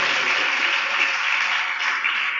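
A church congregation applauds, a steady, even wash of clapping that holds throughout with no voices.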